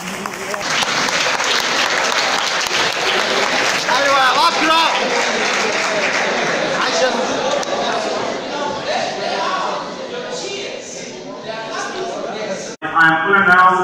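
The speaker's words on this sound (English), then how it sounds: "I want you to clap again to encourage me" Audience applause in a medical school lecture hall, sustained clapping from many hands filling most of the clip, with crowd chatter mixed in, then a brief cut before a closer burst at the end.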